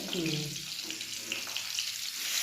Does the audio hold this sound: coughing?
no